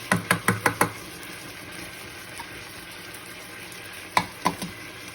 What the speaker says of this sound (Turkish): Sarımsağımızı da ekledikten sonra arkadaşlar al karıştırayım kızarsınlar.